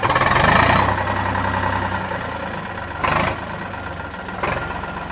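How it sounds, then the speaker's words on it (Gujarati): Eicher 368 tractor with a Super DI engine idling nearby, a steady low diesel chug with brief revs, heard alone. "સુપર ડીઆઈમાં એન્જિન આવે મસ્ત"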